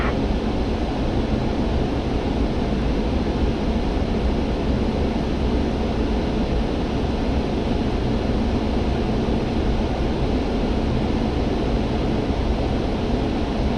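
Loud, steady engine roar of a small aircraft taking off and towing a glider, a constant broadband drone with wind rush and no breaks.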